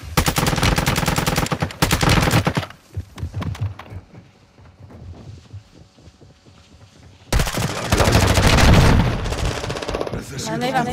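Heavy automatic gunfire from the video game Warzone 2 comes in loud, dense bursts, then drops to scattered quieter shots and rustling before another long, loud barrage erupts near the end.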